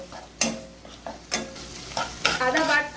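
Ginger garlic paste fries in a pan for chicken korma, sizzling close up while a spoon scrapes through it in several sharp, uneven stirring strokes. No one speaks.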